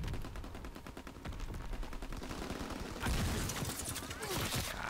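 Gunfire from a 12-gauge shotgun in Call of Duty WW2, repeated loud shots over steady battle noise, with heavier blasts toward the end; a voice talks underneath.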